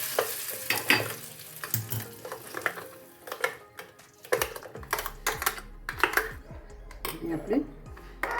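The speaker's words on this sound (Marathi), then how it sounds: "चटणी झालेली आपली, त्याच्यामध्ये तडका मारून घ्यायचा." Tempering of curry leaves crackling in hot oil, added to a raw mango and mint chutney, with sharp pops and sizzling bursts that come and go over several seconds, close up, with a voice heard now and then.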